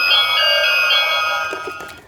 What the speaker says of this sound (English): Each door has a different ringtone for its doorbell.